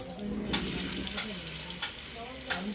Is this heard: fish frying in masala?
yes